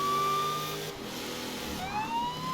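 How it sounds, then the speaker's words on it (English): A police car siren in the racing game Forza Horizon, a wailing tone that fades out briefly and then rises again, heard fairly clearly over a low engine rumble with no talking. "we've also now got a good old police siren"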